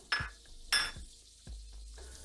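Butter dropped into a hot pan for chicken fricassee, giving a few close, quick impacts, each trailing into a soft sizzle, quiet and with no talking.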